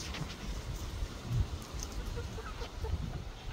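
Hens cluck softly on a small hobby farm, with a few close, brief clucks over a steady outdoor background hiss.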